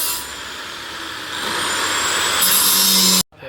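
A power saw cuts through measured metal pipe for a cage frame, a steady loud grinding whine that holds for about three seconds, rising slightly in intensity, then stops abruptly.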